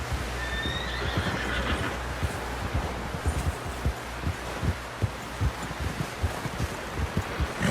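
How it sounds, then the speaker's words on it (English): A horse in the video game Red Dead Redemption 2 neighs with a high whinny over rhythmic clip-clopping hooves, the steady gait continuing throughout at close range. "Someone help John down off this horse."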